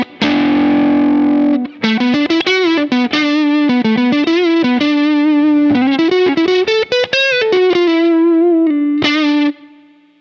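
Electric guitar played through a Cornerstone Gladio double preamp pedal on its darker channel, a continuous melodic lead line of sustained, slightly overdriven notes with bends and vibrato, loud and close, with no talking.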